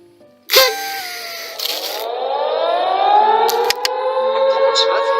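A wartime air raid siren in Portsmouth winds up and wails loudly, its rising tone sweeping upward and holding over several seconds after a sharp initial burst.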